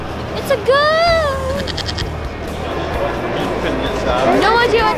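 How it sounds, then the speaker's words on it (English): A goat bleats at an outdoor hot rod and custom car show, a wavering call early on and another toward the end, with crowd chatter and people talking throughout. "Look at the goat."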